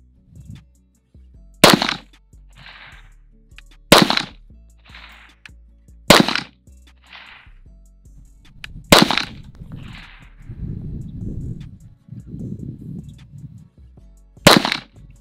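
Five sharp pistol shots from a Canik TP9SFX at a shooting range, evenly spaced about two seconds apart and loud against a quiet background, with short bursts of indistinct talk between later shots.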